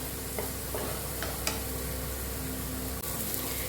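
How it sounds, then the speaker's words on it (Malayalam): Onions sautéing in a pan until brown, a steady soft sizzle with occasional scrape and stir clicks, close and continuous with no talk. "ഇനി ഒന്ന് ബ്രൗൺ കളറാകുന്നത് വരെ നമുക്കൊന്ന് വഴറ്റി കൊടുക്കണം."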